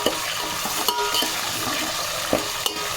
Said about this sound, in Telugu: ఇప్పుడు కరివేపాకు ఇప్పుడు బాగా కలిపి వేసుకోవాలి